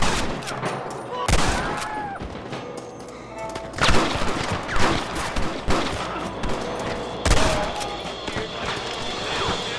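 Gunfire in the Western video game Red Dead Redemption: repeated loud shots and bursts crack out in clusters across the scene, mixed with game ambience and occasional excited voices.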